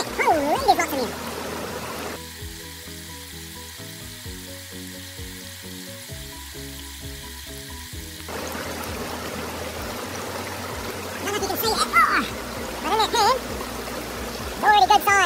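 Creek water sloshes and trickles as a gold pan is gently washed while prospecting at Shamrock Creek, a close, splashy swirl with a steady droning hum through the middle stretch and livelier splashing toward the end.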